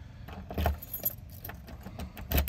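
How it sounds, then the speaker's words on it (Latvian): Keys jangle and rattle close by in a few bursts as someone struggles to unlock a door, with faint background noise and no talk. "Nevaru atslēgt durvis."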